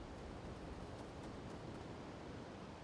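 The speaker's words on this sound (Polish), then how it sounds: "Szum tutaj lasu słychać." A forest in the video game Little Nightmares II gives off a soft, steady rustling hiss, faint and even like wind through trees, with no voices.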